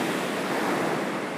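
Sea waves on the shore at Sudak, a continuous close wash of surf with some wind buffeting the microphone and no voices.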